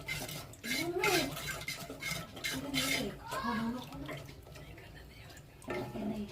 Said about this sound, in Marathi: एक चमची जेवढा सोया सॉस आणि मीठ टाकूया आणि हलवून घेऊया